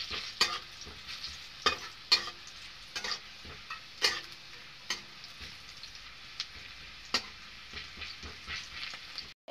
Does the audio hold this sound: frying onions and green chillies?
yes